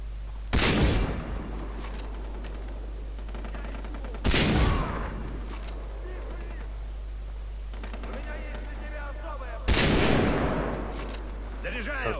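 Gunfire in the co-op multiplayer of the video game Far Cry 3 comes in three loud, short bursts spaced several seconds apart, over a steady low hum and quieter game sounds between them.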